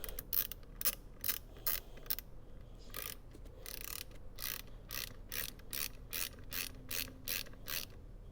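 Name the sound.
ratchet tightening a bolt on a 1991 Mercedes 560 SEL rear seat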